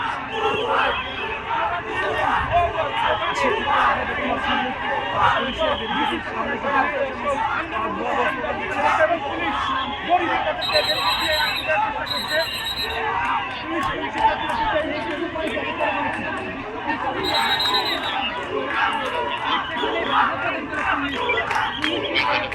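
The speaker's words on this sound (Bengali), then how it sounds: "তারা পুলিশকে দেখে বোয়া বোয়া স্লোগান দিয়ে সামনের দিকে অগ্রসর হচ্ছেন" A crowd of HSC exam students in Bangladesh chants slogans as it advances toward a police barricade, a loud, continuous mass of shouting voices with steady rhythmic bursts throughout.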